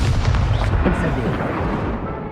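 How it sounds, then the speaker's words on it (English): Incendio fire spell cast in the Hogwarts Legacy video game: a loud, dense whooshing blast with a deep rumbling boom underneath, sustained for a couple of seconds before easing off slightly. "Incendio!"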